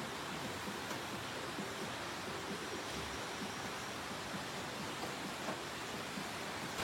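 The Pari river flows steadily past a forest campsite in the early morning, a constant dense rushing wash at even loudness throughout, with no voices.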